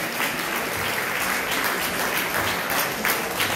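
An audience at a family festival in Les Anses d'Arlet applauds children who have just recited on stage. The clapping is dense and steady throughout, with a faint voice underneath.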